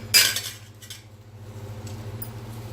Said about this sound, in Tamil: இது நல்லா கரையிற வரைக்கும் நல்லா கிண்டி விடுங்க